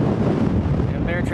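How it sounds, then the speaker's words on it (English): Gusty wind buffets the microphone on a road beside Lake Ennis, a steady broadband roar that fills the short stretch with little letup. "Pretty gusty right here."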